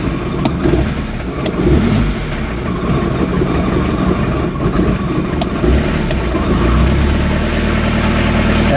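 A 2.0L diesel engine in a 1986 Ford Escort wagon idles steadily and loudly up close, its low rumble slightly uneven and rough throughout, with no voices.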